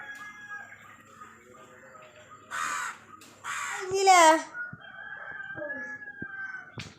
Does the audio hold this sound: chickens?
yes